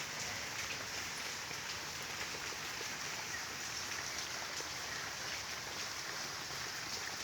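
Steady rain falling on surfaces outdoors during the rainy season, a dense, even hiss of drops that stays constant and fairly soft throughout, with no voices.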